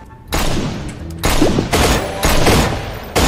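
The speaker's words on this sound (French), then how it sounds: "C'est qui tire là?" Bursts of rapid gunfire in the video game Garry's Mod crackle in several loud volleys separated by short pauses, close and harsh.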